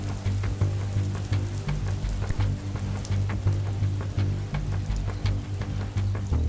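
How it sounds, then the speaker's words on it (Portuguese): Steady rain falls in a dense, continuous hiss with scattered drop ticks and a low droning rumble beneath, loud and unbroken throughout, no voices. "Olha aí a chuva, ó."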